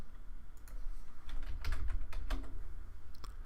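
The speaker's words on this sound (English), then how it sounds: "I'm going to go ahead and type it in because I know what it is" Fingers typing a Steam CD key on a computer keyboard, a quick irregular run of close, crisp key clicks and taps, louder in the middle, with no talking.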